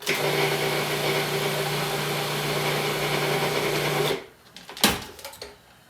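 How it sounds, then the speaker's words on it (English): A food processor blends pesto with olive oil, making a loud steady whirring motor drone for about four seconds before it cuts off, followed by a brief clunk. "Give it one more shot in the processor."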